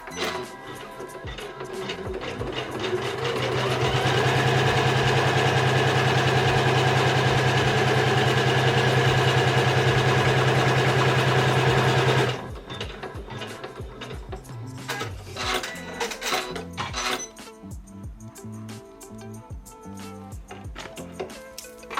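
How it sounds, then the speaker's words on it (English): A Janome 550E embroidery machine stitches main fabric in the hoop, with a loud, steady mechanical whir for about twelve seconds, then it stops and quieter handling sounds and clatter follow. "we'll have another go at stitching this main fabric on"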